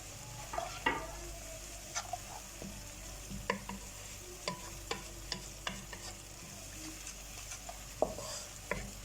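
Onions and dry spices frying in a pan for arbi salan: a soft continuous sizzle under frequent light scrapes and taps of a spoon stirring, fairly close and moderately quiet.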